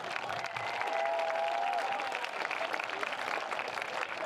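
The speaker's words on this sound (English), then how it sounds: "applause" A football homecoming crowd in the stands applauds the homecoming representatives, a steady wash of distant clapping and crowd noise throughout, with a faint tone and voices mixed in.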